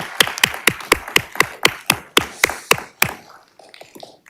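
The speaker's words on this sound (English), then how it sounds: "give Mr. McCool a round of applause" A small group at a school board meeting claps in a brief round of applause, with about ten distinct, fairly close claps in a loose rhythm before tapering into quiet room sound.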